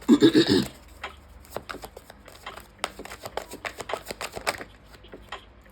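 Tarot cards being shuffled by hand, a run of crisp, close riffling clicks and flicks in an uneven rhythm after a brief louder rustle at the start.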